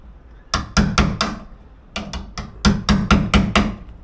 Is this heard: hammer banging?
yes